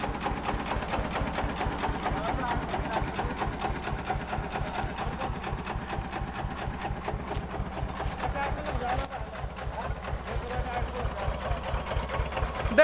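An old-model Eicher tractor engine labours steadily while pulling a heavily loaded sugar trolley, a loud, continuous rhythmic diesel chug with a brief dip near the end, and voices talk over it.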